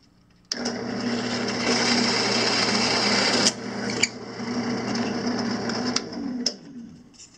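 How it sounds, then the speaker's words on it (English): A drill bores through plywood veneer fidget spinner blanks, a high whirring motor running steadily for several seconds with a few sharp clicks and bumps as the bit cuts, then winding down. "So we'll drill a few more."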